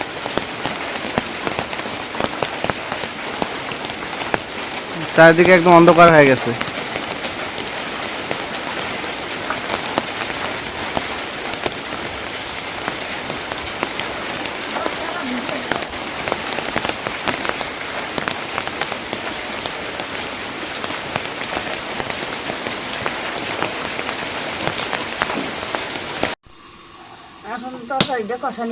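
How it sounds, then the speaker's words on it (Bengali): Heavy rain with wind hisses steadily for nearly half a minute, a loud, unbroken wash of drops, while a person speaks briefly over it and a sharper burst of sound cuts in near the start. "বাতাস বৃষ্টি"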